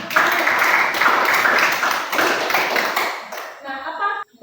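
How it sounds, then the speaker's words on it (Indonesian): Classroom applause, many hands clapping steadily and densely for about three and a half seconds before fading out, with a brief voice at the end. "Oke, kita berikan tepuk tangan"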